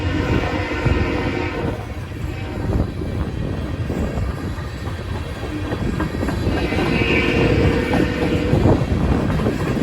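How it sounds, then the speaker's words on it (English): An empty ethanol freight train led by a single BNSF locomotive rolls past close by in Fostoria, Ohio, a loud continuous rumble with wheel clatter and squealing metallic tones rising toward the end. "Right after that empty ethanol train went through"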